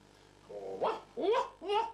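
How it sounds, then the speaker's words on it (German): A dog gives three short barks or yelps close by, each rising and falling in pitch, with a brief gap before the first and quiet room tone around them. "Das ist ein Hund."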